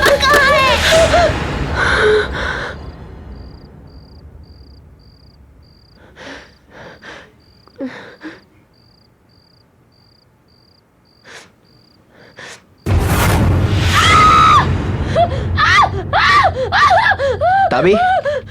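A woman screams in fright in a Hindi-dubbed horror film, a loud shrill burst at the start, then a quiet stretch with crickets and sparse sounds before agitated, breathy voices return loudly near the end.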